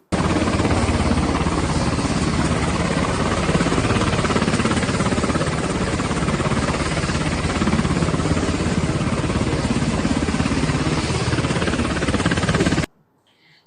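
Loud, steady helicopter engine and rotor roar in news footage of soldiers on stretchers being loaded aboard, continuous and unbroken for about thirteen seconds before cutting off abruptly.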